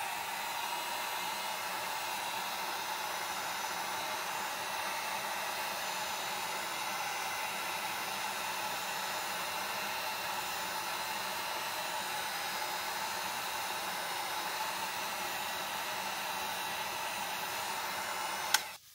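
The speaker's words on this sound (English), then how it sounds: "I'm gonna just take my heat gun, I'm just putting it on the low setting, start heating up this wax." A heat gun on its low setting runs as a steady, even blowing roar while it melts wax into canvas fabric, holding constant for nearly the whole stretch before cutting off abruptly near the end.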